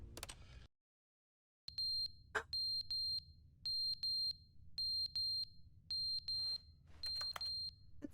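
Electronic alarm in The Stanley Parable Ultra Deluxe beeps in rapid pairs of shrill, steady tones, repeating in a regular pattern after a brief silence, with a low hum underneath.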